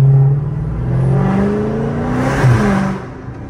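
A Dodge Hellcat fitted with headers downshifts, its engine note rising and falling in loud, continuous roaring blips with a brief crackle near the end, heard from inside the car.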